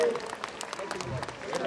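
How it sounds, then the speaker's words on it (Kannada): An audience at a public gathering honouring an elderly scholar claps, a brief scattered burst of hand-claps heard fairly faintly, mixed with talking voices. "ತಾವೆಲ್ಲರೂ ಜೋರಾಗಿ ಚಪ್ಪಾಳೆ ಕಟ್ಟಬೇಕು."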